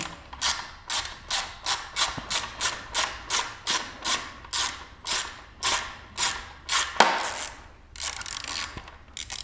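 Hand ratchet loosening skid plate bolts on a Husqvarna FE 501s motorcycle, a steady series of about fifteen close, crisp clicking strokes in even rhythm, followed by a brief pause and a few more clicks.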